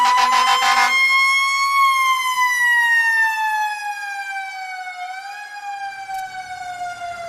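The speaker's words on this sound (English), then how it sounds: "they definitely win for the loudest fire trucks" Fire truck sirens wail loudly at a Christmas parade, a strong sustained tone gliding slowly downward after a short burst of air-horn-like blasts at the start, close and alone without talk.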